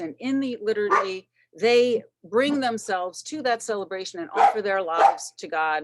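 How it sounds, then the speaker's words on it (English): Dogs bark in the background under a man's continuous speech about the liturgy, with short yaps and whimpers breaking in between his phrases. "Sorry about the dogs."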